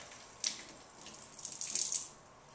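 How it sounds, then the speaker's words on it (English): Water flowing from a home water ionizer into a sink, a soft steady hiss with a splashy onset and a louder surge of running water toward the end. "Turn on the water ionizer,"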